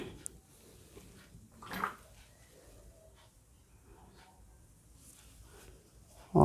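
Water poured over a budget sleeping tent to test its waterproofing makes a faint, steady trickle and patter on the fabric, with a brief louder splash partway through and another surge right at the end.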